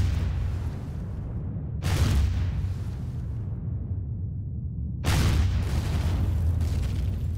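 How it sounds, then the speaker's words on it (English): Two deep booming explosions in the space game Empyrion, each a sudden loud blast followed by a long rumbling decay over continuous low background noise. "There goes a lot of explosions."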